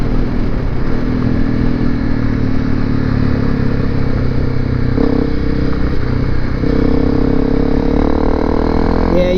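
A Honda CRF250L Rally motorcycle rides along a fire road, its engine droning steadily and loudly throughout with slight shifts in pitch, mixed with wind and mechanical clatter.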